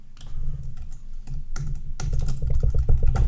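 Rapid, steady clatter of keys on a computer keyboard, close and continuous, with a dense irregular rhythm that grows slightly busier toward the end.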